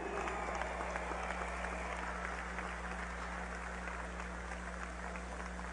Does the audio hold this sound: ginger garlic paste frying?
no